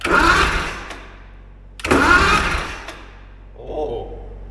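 A two-stroke Detroit Diesel engine that sat unused for over six years cranks and fires in two loud, rough surges, then falls back to a lower rumble, with a voice briefly heard near the end.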